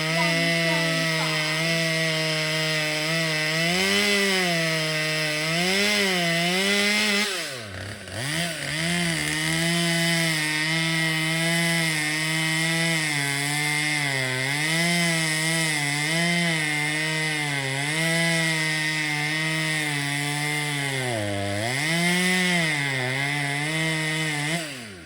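A chainsaw fells a Christmas tree on a homestead, its engine holding a loud, steady droning whine up close, dipping briefly as the throttle drops and then revving back up under load.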